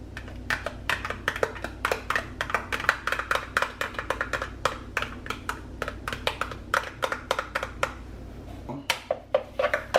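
Spoon clacks steadily against a bowl while low-fat Greek yogurt is stirred into a mixture, a quick, even run of close taps with a brief pause near the end.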